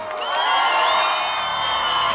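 An audience at a Romanian language day show cheers and whoops for a band, a dense, bright roar of many voices that holds steady throughout.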